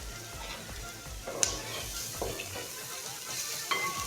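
Sliced cabbage and onions sizzling in a pan for chicken fried rice, a quiet steady frying hiss with occasional light clinks and scrapes from stirring.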